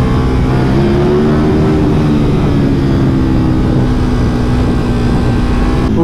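A KTM Super Duke 1290 R motorcycle accelerates hard, a steady, loud engine drone with rising tones that fills the whole stretch, heard close and continuous without any talking.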